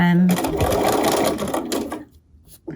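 Sewing machine running steadily for about two seconds as it stitches piping around fabric, then cutting out; loud and close, with a voice briefly heard.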